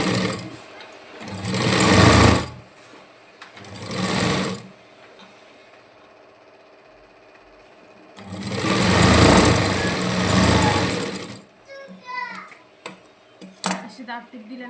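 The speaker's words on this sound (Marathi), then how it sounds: "आवाजाला इग्नोर करा मित्रांनो मशीनीच्या" A sewing machine stitching fabric for a princess-cut boat-neck blouse front, running in loud bursts of a few seconds separated by quieter pauses with faint handling noise, and a voice briefly heard near the end.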